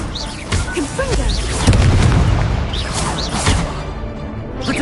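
Confringo explosion spell cast in Hogwarts Legacy, with repeated booming blasts and whooshing bursts over the game's ongoing sound effects and a character's voice, loud and close.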